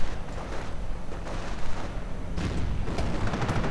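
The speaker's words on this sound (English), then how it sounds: "We are seeing another Hetzer coming in to add to this little barrage of batteries." Artillery barrage from Hetzer-mounted batteries in a World War II strategy game: dense, continuous rumbling booms and overlapping blasts fill the whole span, loud and close with no pauses.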